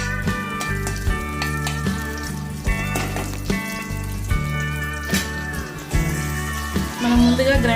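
Whole biryani spices frying in hot oil, a steady sizzle and crackle with sharp pops and clinks of a utensil against the pan, fairly close and continuous throughout.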